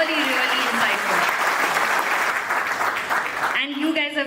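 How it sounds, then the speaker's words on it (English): An audience at a TEDx salon talk event claps for the speakers, a dense, steady round of applause lasting a few seconds before it breaks off and a voice begins speaking. "I would like all of you to please give a huge round of applause to each of our esteemed speakers"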